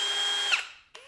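Ryobi cordless hammer drill spinning under its variable-speed trigger, a steady high motor whine that cuts off, followed by a brief second burst of running after a short pause.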